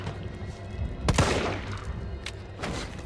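Gunfire from the Resident Evil video game: a sharp close shot or short burst rings out, followed by a couple of fainter reports, all over a low background rumble.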